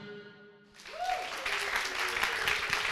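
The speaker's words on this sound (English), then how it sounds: "applause for me" A conference audience breaks into loud, sustained applause for a startup sales head taking the stage, rising suddenly after a quiet moment and continuing steadily.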